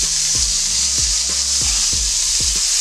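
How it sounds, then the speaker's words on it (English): Pork chops browning in a pan give off a loud, constant close-up sizzle, with a series of evenly spaced low thumps underneath and no talking. "the pork chops got some good color on them. Like I said, I'm not cooking it, I'm just browning them up."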